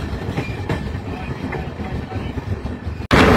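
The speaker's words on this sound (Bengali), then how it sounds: "ট্রেনটি এই মুহূর্তে ভেদিয়া ব্রিজ ক্রস করলো বন্ধুরা" Amrit Bharat Express train crossing the Bhedia bridge, a steady rumbling roar of wheels and carriages with faint rhythmic clatter, ending in a sudden louder burst of rushing noise.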